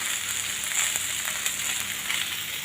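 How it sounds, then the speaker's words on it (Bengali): A fish head fries in a pan with oil, giving a steady, bright sizzle with small crackles and pops throughout, close and fairly loud. "এখানে আমি মাছের মাথা ফ্রাই করছি"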